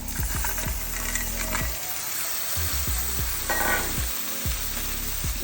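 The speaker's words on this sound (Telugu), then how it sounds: "ఇప్పుడు ఈ టైంలో మనం నీట్గా వాష్ చేసుకున్న పీతలు ఉన్నాయి కదా ఈ పీతలు వేసుకుందాం" Crabs frying in spicy masala for an Andhra-style crab curry: constant close sizzling with repeated scraping and clattering as the pan is stirred.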